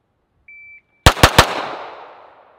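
A SIG P320 X5 Legion pistol fires three quick, loud, sharp shots in rapid succession, each ringing out briefly, preceded by a short electronic shot-timer beep.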